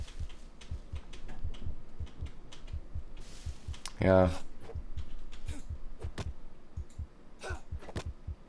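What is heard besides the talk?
heartbeat sound effect in the video game Green Hell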